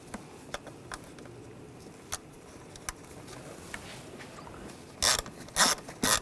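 Ratchet tightening nuts on the valve cover of a 2006-2010 BMW 550i 4.8L V8, faint scattered clicks followed by a few louder bursts of rapid ratcheting close by, with no talk.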